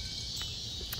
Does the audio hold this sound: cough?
no